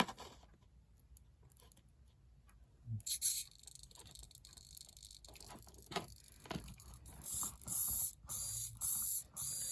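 An Emax ES08MA2 metal-gear servo driven by a servo tester buzzes in short repeated bursts, sharp whirring pulses separated by quiet pauses, with faint clicks and handling noise in between.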